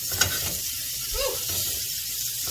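A rib eye steak sizzles steadily in a hot pan with fire flaring, a constant close crackling hiss with a brief sharper pop near the start and no speech over it.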